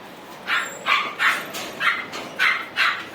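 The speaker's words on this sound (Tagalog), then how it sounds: "makikita mo yung mga nagtatakbuhan sa likod mo, yung mga aso na alaga mo" Dogs bark in a steady series of about eight sharp yaps, evenly spaced and fairly close.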